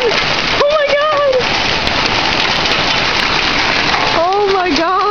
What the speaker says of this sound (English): it's hailing more again!